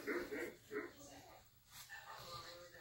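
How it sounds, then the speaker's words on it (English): A puppy gives a few short, high yips and whimpering barks close by, in quick bursts with pauses between them, and a person speaks softly alongside. "She's barking at her own reflection in the window."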